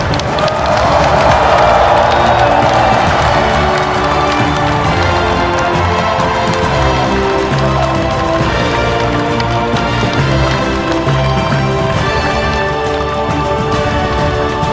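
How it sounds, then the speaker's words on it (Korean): Loud, sustained applause and cheering from a large audience welcoming South Korean President Lee Jae-myung at the launch meeting of the 22nd Peaceful Unification Advisory Council, with music playing steadily underneath throughout. "이재명 대통령을 뜨거운 박수로 환영해 주시기"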